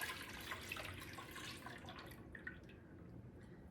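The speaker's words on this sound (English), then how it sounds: "3½ cups of milk. Let's go ahead and pour that in." Milk, three and a half cups, pours into a mixing bowl for banana pudding, a steady liquid stream and trickle running close and continuous for the whole stretch with no talking.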